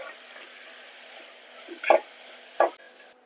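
Crushed shallots frying in a pan and stirred with a utensil, giving a low steady sizzle with two short louder scraping bursts, close and without talk.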